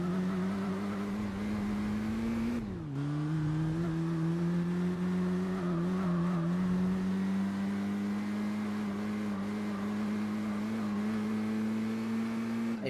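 A front-wheel-drive car driving in Gran Turismo 4, a steady engine drone that holds a constant pitch with a brief dip in revs early on, loud and continuous throughout.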